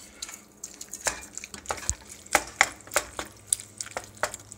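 A spatula stirs Kraft Dinner noodles with butter, milk and orange cheese powder in a pot. Irregular close clinks and scrapes against the pot, with soft wet squelches between them. No one talks.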